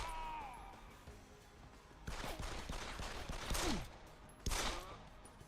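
Gunshots in the video game Deus Ex: Human Revolution, with a sudden burst of gunfire followed by further sharp cracks and a loud final shot, all fairly faint in the mix, with no speech.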